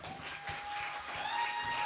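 Audience applause at a city candidates forum in Seattle, a steady wash of clapping sustained for about two seconds, with faint voices and murmur in the room beneath it.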